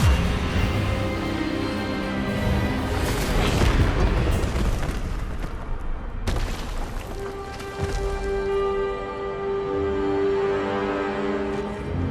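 An Expelliarmus spell is cast in Hogwarts Legacy, a loud magical whoosh and booming burst that builds, cuts off sharply, then gives way to a sustained resonant hum with music underneath.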